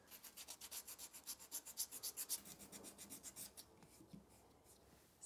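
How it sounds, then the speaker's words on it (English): A resin and toothpaste prop rubbed with 220-grit sandpaper, making quick, rhythmic rasping strokes, about a dozen in a row, close and faint, then slowing and fading near the end. "Got some 220 here. This stuff sands really easily."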